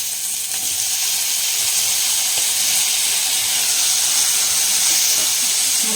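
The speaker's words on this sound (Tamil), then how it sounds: "இப்போ தான் நல்லா வதக்கணும். இப்போ தக்காளி சேர்த்துக்கலாம்." Tomatoes sautéing with sliced onions and two green chilies in a pan for a mutton tikka masala chukka, a steady close hiss and sizzle that holds evenly throughout, with no talk.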